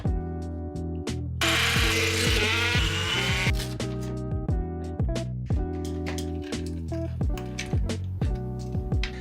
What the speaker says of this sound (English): I'm going to use my template to drill the 4 holes for installing the mounting brackets.